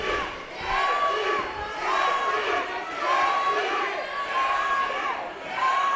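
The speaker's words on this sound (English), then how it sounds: "A little bit of mixed chants there from the crowd" A crowd at a fight event (Jesse Butler vs Colin Wright) chants in rising and falling waves. The sustained, repeating voices roll on steadily from a distance, with faint commentary underneath.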